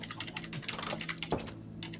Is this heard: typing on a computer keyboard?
yes